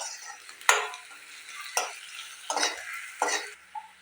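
Spices fry in a pan with chopped chillies as a utensil stirs them, four or five distinct scraping strokes standing out over a faint, steady sizzle, close and alone with no talk.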